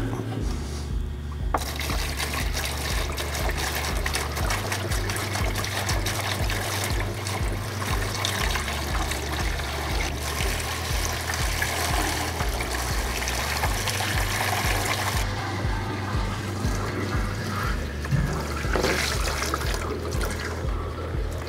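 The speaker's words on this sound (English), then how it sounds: "adding 5 gallons of water to the tank" Water being poured into a diesel fuel tank during a water-removal test, a continuous liquid filling sound over a steady low mechanical hum, with nobody speaking.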